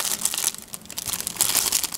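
Plastic wrapper crinkling around a chocolate-covered object, a close, continuous crackle of scrunching and rustling with no talk.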